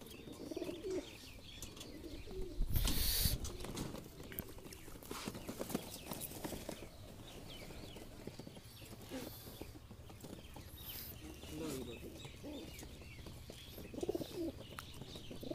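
Black China pigeons coo softly amid steady background noise, with a loud rustling burst early on and some faint chirps and clip-clop sounds.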